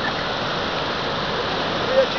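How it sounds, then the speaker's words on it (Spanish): Yuchimayo river, also called Río Chico, flows in a continuous rushing wash of water, loud and close, steady from start to finish. "Este es el Chimayo, o sea, río Chico. Yuchimayo. Este es el río Yuchimayo."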